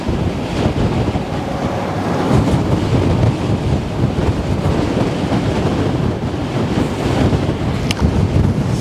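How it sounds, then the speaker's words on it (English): Strong wind gusts buffet the microphone beside the Westerschelde waterway in the Netherlands, a steady loud rushing roar with waves washing underneath, with no voices. "I have to admit, it's not as relaxing as it is when there's less wind. This is crazy, this wind."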